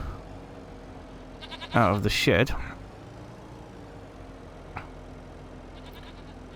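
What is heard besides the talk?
goats bleating in Farming Simulator 25 video game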